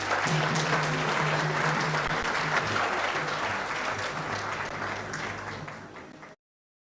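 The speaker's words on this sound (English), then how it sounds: "Can the Nnabagereka please have a round of applause" Applause for the Nnabagereka fills a hall at a book launch, a sustained round of clapping from a crowd that holds steady for about six seconds before cutting off.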